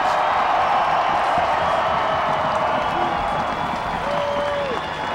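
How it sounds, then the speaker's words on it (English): A stadium crowd gives sustained applause for the two teams after the 2008 Ohio high school Division I football championship final, a dense, continuous wash of clapping with some cheering. "let's give these 2 championship teams a big round of applause"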